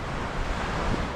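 Sea waves and gusting wind at Bamboo Beach in Pattaya, Thailand, a dense, continuous roar of surf and wind buffeting the microphone, loud and close.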